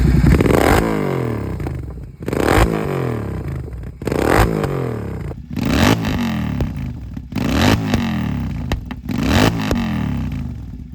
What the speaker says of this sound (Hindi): इसका एग्जॉस्ट नोट सुनिए आप।